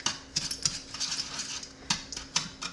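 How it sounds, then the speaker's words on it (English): Four eggs whisked together in a bowl for a French silk pie filling produce quick, light metallic clicks and taps in uneven bursts, close and fairly quiet, with no voices. "And then I'm gonna take 4 eggs. All right, I'm gonna whisk this together."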